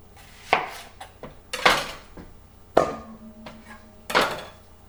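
Knife chopping through a large sweet onion on a cutting board, four heavy separate thunks spaced about a second apart, close and clear with a quiet background.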